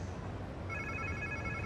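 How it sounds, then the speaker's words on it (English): A phone rings in the Marvel Spider-Man 2 video game inside a museum, a faint, repeating electronic trill that starts partway through over a quiet, low ambient bed. "Sounds like somebody's phone."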